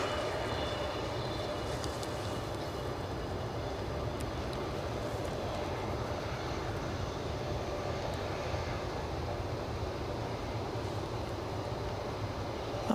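A Ryanair plane arrives at Edinburgh airport: a faint, distant, steady engine drone with no clear peak, heard alone at low level.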